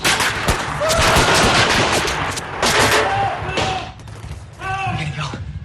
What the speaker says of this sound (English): I think Bob Ice guys are shooting back.